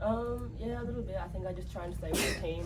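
A single sharp sneeze breaks out near the end of a post-match football interview, briefly cutting over a man's ongoing speech.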